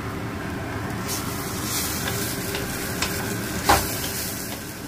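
Bitter gourd and eggplant fry on low heat in a pan, a steady close sizzle with a brief scrape of stirring and one sharp clink near the end.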